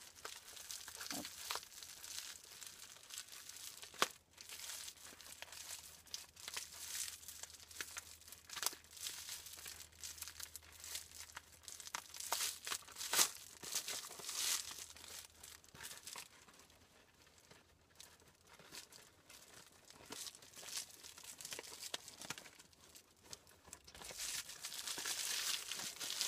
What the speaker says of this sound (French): Et vous venez glisser la doublure isolante à l'intérieur.